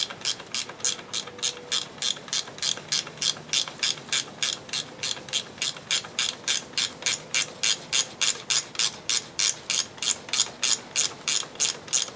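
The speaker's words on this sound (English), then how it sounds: "Now, if I can slide the wrench around it." Rapid ratchet wrench clicking while working on the fuel pressure regulator of a 1999 Pontiac Grand Am 2.4L, a steady close run of about forty even ticks in bursts, with no talk.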